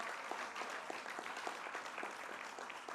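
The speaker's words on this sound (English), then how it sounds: "Let's have a big round of applause for County Executive Joni Mahoney" Applause from the crowd at the kickoff of the 2016 Great New York State Fair, greeting the county executive; a steady, dense wash of clapping with individual claps standing out, sustained throughout.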